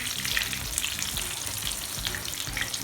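Potato chapli kababs fry in oil over a medium-low flame, giving a steady, close crackle with fine bubbling pops throughout and no speech.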